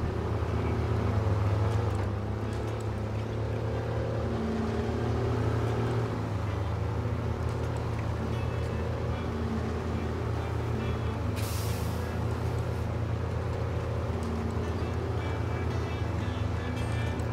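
A truck in SnowRunner rolls downhill over mud, its engine holding a low steady drone throughout, with a brief hissing burst partway through.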